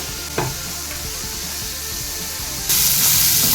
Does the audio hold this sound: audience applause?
no